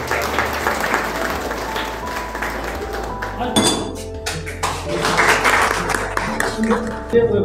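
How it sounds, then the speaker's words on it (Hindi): Scattered clapping at a school award ceremony for a first-rank student, mixed with taps, clinks and background voices, uneven and moderately loud. "इनके लिए ताली होनी चाहिए"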